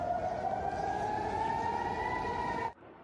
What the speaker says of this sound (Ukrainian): А ще трохи пізніше у місті спрацювали сирени повітряної тривоги.